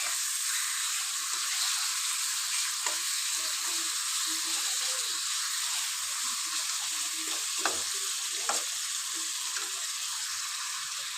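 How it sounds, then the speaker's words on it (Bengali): Rohu fish being sautéed with spices in a pan, giving a steady close sizzle with small clicks and stirring knocks throughout, and no talk. "সব কিছুর সঙ্গে মাছ সুন্দর করে কষিয়ে নিব।"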